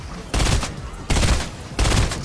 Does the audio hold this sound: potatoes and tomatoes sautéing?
no